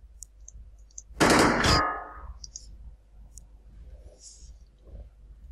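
Suppressive gunfire in the video game Xenonauts: one loud, dense burst of automatic fire lasting about half a second, followed by faint scattered clicks and beeps of the game interface, with no talk.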